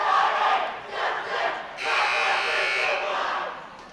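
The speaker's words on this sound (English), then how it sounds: "we're back here at Colfax High School as they're doing the countdown cheer" A high school girls' basketball crowd in a gym chants a countdown cheer, loud massed voices rising and falling in waves, then holding a sustained roar.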